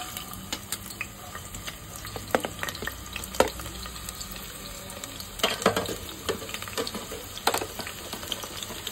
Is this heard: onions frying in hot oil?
yes